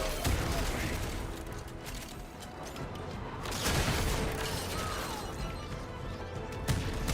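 Weapons fire against enemies in the video game Warframe: rapid bursts of shots and crunching impacts in quick, irregular clusters, loud and continuous across the stretch.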